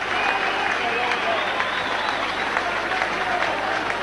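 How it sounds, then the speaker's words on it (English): A large stadium crowd of rugby league fans applauds a player at a Regal Trophy final between Leeds and Widnes, a steady, dense roar of clapping and cheering that fills the whole stretch without a break. "it's a huge round of applause for Holiday"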